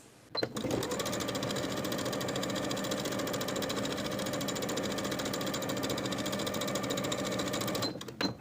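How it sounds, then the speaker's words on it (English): A sewing machine runs steadily as it top stitches a fabric seam with a quarter-inch allowance, a close, even rapid needle chatter lasting several seconds, starting and stopping abruptly with small clicks at each end. "Then we're going to top stitch from the right side of the fabric on the lighter side, catching that seam allowance as we go"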